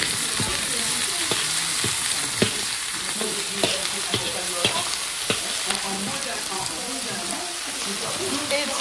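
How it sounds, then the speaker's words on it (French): Carrots, onions and peppers sautéing in hot oil with a steady dense sizzle and crackle throughout, punctuated by occasional stirring clicks, close and continuous. "On rajoute là tous les légumes, donc là, les carottes, les oignons et les poivrons."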